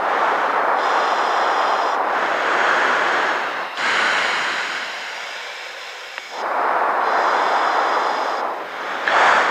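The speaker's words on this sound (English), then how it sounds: "I got my mask on too, and we'll cut out some of that wind noise" Wind noise roars in the rear cockpit of an L-39 jet, a loud broad rushing sound that swells and dips in long waves, with no voices.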